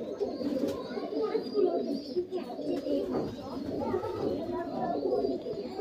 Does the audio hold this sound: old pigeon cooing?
yes